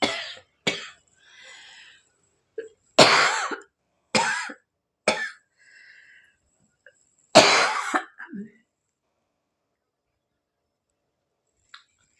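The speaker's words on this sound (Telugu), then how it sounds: "నాకు దగ్గు చాలా వస్తుంది" A run of harsh, close coughs comes in separate clustered bursts with short quiet gaps between them, loud and dry, with a final faint cough near the end and no talking.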